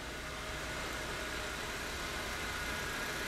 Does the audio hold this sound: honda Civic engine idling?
yes